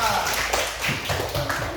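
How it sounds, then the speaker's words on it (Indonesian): Children in a classroom give a short burst of clapping, close and somewhat uneven, with voices mixed in throughout. "Oke, tepuk tangan untuk 5."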